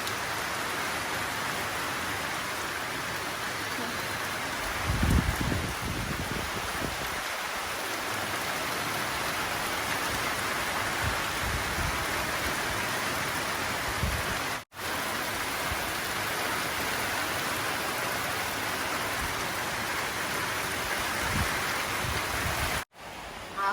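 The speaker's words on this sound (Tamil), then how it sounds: "வெளியில் இப்போ மழையும் பெய்யுது" Steady rain pours down outdoors in a village while the sun is shining, a dense, even hiss of falling drops that continues without pause and is heard alone.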